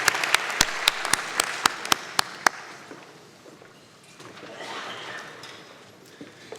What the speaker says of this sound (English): Round of applause for the MacEwan University Big Band.